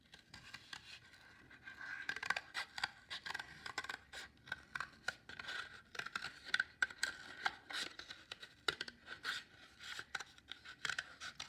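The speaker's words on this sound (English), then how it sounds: "I'm going to go ahead and cut this out." Scissors cut out a cardboard butterfly stencil: a close, quiet run of crisp snips and scratchy slicing strokes in an irregular rhythm, with small pauses between cuts.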